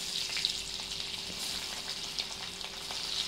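Onions and crushed garlic frying in a pan for a brinjal bhaji, producing a soft, steady sizzle with faint crackles that continue without pause.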